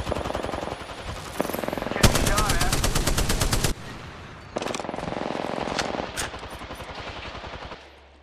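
Rapid automatic gunfire in the Apex Legends video game, loud sustained bursts with a dense stretch of rapid shots, broken by brief pauses and continuing in several volleys.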